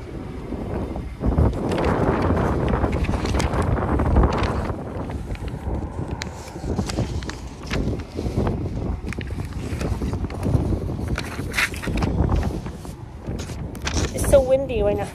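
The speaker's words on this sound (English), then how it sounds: "It's so windy right now." Strong outdoor wind buffets the microphone with continuous rumbling gusts while a person talks over it and footsteps move along.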